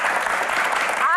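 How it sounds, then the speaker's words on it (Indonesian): A studio audience at a Q&A talk show bursts into loud, close applause for the panelists, a brief, dense clatter of clapping with a voice over it. "Langsung saja kita berikan tepuk tangan yang paling meriah untuk panelis kita di edisi spesial ini"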